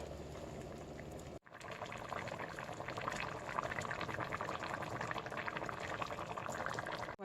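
Fante Fante stew liquid simmers in a pot with a continuous soft bubbling and gurgling that cuts out briefly early on, then resumes steadily, quiet and close without talk.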